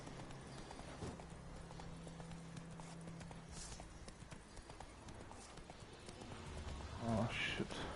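Roach, the horse in The Witcher 3 video game, gallops with a rapid, continuous clip-clop of hooves, fairly faint and steady, swelling slightly near the end amid game ambience.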